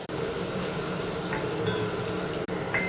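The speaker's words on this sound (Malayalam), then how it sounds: "നല്ലോണം ഇളക്കണം. ബ്രൗൺ നിറമാകുന്നവരെ" Ginger is stirred in a pan for a moru curry until browned, making a loud, even frying hiss with faint scraping, briefly cut by two short gaps.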